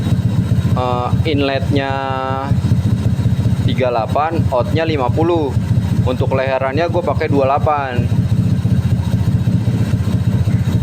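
A Honda Stylo 160 scooter with a modified CVT and full air filter idles steadily nearby, a constant low engine drone that runs the whole time while someone talks over it.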